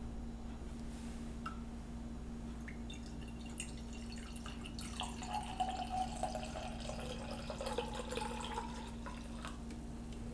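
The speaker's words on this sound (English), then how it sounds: "let's just pour it and take a look at it." Cabernet Sauvignon wine pouring from a 250 ml can into a glass, a soft continuous liquid trickle with faint splashing over a low steady hum, quiet and close.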